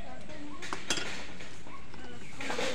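A spoon or spatula scraping and clinking against a pan while homemade tomato sauce is stirred, with soft intermittent metallic taps under a faint talking voice in a home kitchen.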